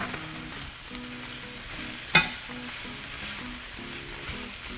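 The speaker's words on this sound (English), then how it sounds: "Going in with the snow peas." Snow peas sizzle steadily in a hot stir-fry pan, a soft continuous fry with one sharp click partway through and faint tonal sounds in the background.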